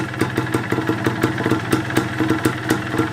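A Yamaha DT125 motorcycle sits at idle, its engine ticking over in a fast, steady pulsing beat with a slight clatter, close up and loud, with no speech.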